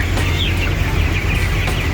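Dense clucking and chattering of many broiler chickens in a barn, a steady crowded flock sound with a low mechanical hum of blowers underneath.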